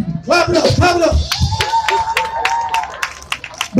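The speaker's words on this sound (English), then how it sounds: "Clap it up, clap it up." Protest crowd clapping outdoors in Fayetteville, a run of sharp handclaps building in rhythm with voices and crowd noise mixed throughout.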